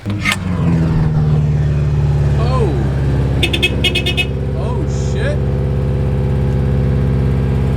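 A turbocharged Mazda Miata idles with a deep, steady drone close by, and its engine note rises and falls as it is revved. A man exclaims over it, and a few quick clicks are heard.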